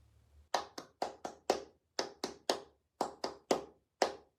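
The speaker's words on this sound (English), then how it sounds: "practice counting and clapping the rhythm" A single pair of hands claps out the rhythm of the klezmer fiddle tune The Fox's Fiddle, sharp close claps falling in an uneven pattern of short and long gaps, alone in a quiet room.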